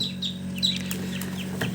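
Hens clucking and newly hatched chicks peeping in short, high chirps, scattered irregularly over a steady low hum, fairly close.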